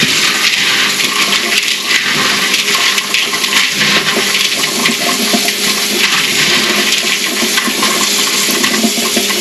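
Water pours hard and continuously over dried beans being rinsed clean, a loud, close, rushing splash that keeps up without a break and has no talking over it.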